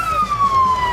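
A police siren wails continuously at a Fourth of July parade in Ketchikan, loud and close, its steady tone sliding gradually downward over a bed of street crowd noise.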